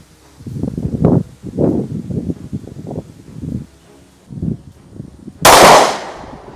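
Low muffled thumps and rustling lead up to a single sharp shot from a Glock 43X pistol fitted with a red dot sight near the end, loud and close, with a brief ringing decay.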